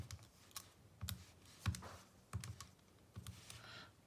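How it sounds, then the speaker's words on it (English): Fingers tapping an equation into a calculator, a sequence of soft, separate key presses at an uneven pace, faint and close in a quiet room. "we need to put this into the calculator. So you're going to type this equation in"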